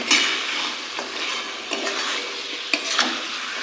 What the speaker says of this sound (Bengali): টমেটো দেওয়ার পর ভালোভাবে এটাকে মশলার সাথে মাখিয়ে নেব